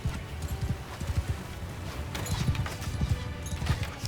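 Horses galloping across a battlefield in Mount and Blade 2 Bannerlord, a rapid, dense run of hoofbeats thudding continuously and growing somewhat louder, heard alone without speech.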